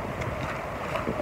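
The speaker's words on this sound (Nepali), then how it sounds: "दामी सिर्रा हावा आयो" Outdoors, wind buffets the microphone in a short, steady, broadband rush for about a second.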